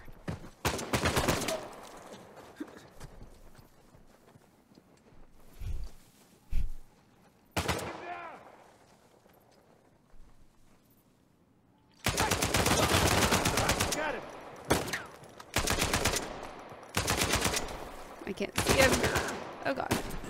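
Enemy gunfire in the video game Uncharted 4 comes in repeated loud bursts of rapid shots, with short quiet gaps between volleys and a dense run of firing in the second half.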